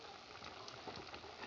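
Flattened cabbage pakoras fry in hot oil, giving a faint, soft, continuous sizzle with light bubbling crackles.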